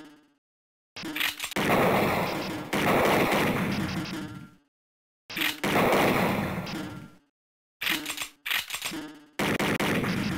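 Loud bursts of retro video game gunfire in Snatcher, sustained crackling volleys broken by several abrupt silent gaps, with a string of short rapid shots near the end.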